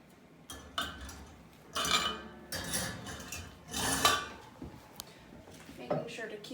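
Glass milk jars of raw milk being handled and their lids screwed down tight, with scattered clinks, scrapes and rubbing of glass and metal in bursts, fairly close, with brief pauses between.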